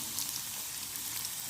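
Chopped onion fries in oil with tempering spices for an okra curry, a soft, even hiss that holds steady through a brief moment with no voices.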